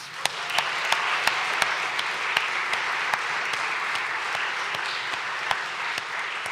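A room full of people applauds graduating seniors at a school thesis presentation day, continuous dense clapping with a few sharp, louder individual claps standing out near the front.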